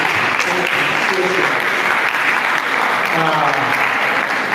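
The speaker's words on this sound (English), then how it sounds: "please, just give them a round of applause" Steady audience applause at a food week event, a continuous wash of clapping with voices talking faintly beneath it.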